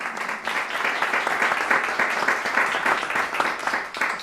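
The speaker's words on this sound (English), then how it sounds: "A round of applause for them." A house-concert audience applauds in a private home with a piano, a steady wash of dense clapping sustained throughout at moderate level.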